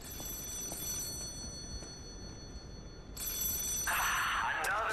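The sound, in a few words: telephone ringing in the video game Lies of P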